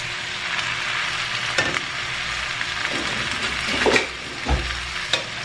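Beans already cooked with onion fry in a pan while a spoon stirs them. The sizzle stays continuous, broken by occasional scraping knocks against the pan at irregular intervals.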